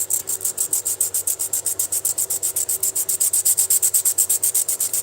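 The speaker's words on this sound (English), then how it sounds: "And I'm polishing my rock." A rock being polished with sandpaper, a loud, fast, even rhythm of rasping back-and-forth strokes, about six per second, close and continuous with no voices.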